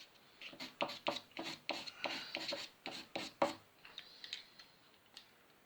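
A brush scrubs orange paint onto a surface in quick, rhythmic back-and-forth strokes, close and fairly quiet, then slows to a few lighter dabs.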